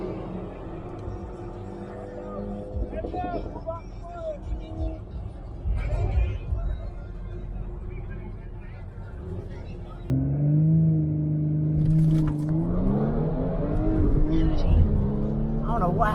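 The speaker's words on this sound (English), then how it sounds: "we're gonna be racing that Camaro over there" A Stage 1 E85 B9 Audi S4 runs at a drag strip against a Camaro, its engine droning steadily and then rising to a louder, climbing pull with shifting pitch as it accelerates, with voices talking throughout.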